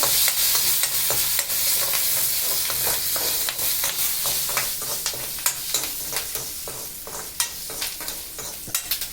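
Curry leaves crackle and sizzle in hot oil in a home kitchen, with sharp irregular pops scattered over a steady frying hiss and occasional stirring close by.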